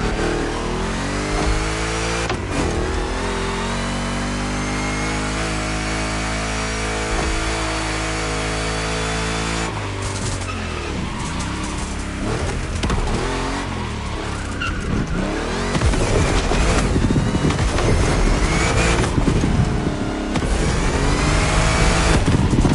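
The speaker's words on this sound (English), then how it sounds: "Two Chevys, two big blocks, with only one winner." Two big-block Chevy engines in The Crew Motorfest race loudly throughout, with sustained revving, gear-change dips and brief tire squeal, steady and close, no talking.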